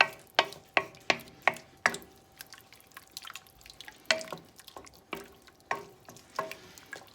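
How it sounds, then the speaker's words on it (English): A thickening flour mixture gets stirred in a pan, giving a series of distinct wet clicks and taps in a loose rhythm, quiet and close, with no voices. "I'm just gonna stir it around. It's gonna get thick."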